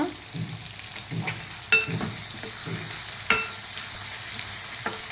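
Spiced fish curry with cumin, coriander and chili powder being stirred in a frying pan, a soft sizzle under scattered spoon scrapes and a couple of sharper knocks against the pan.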